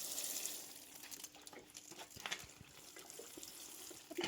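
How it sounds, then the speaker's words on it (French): Water poured or splashed to wet items at a saddlery stand, a soft continuous trickling and splashing with no talk. "Je mouille un peu le tout."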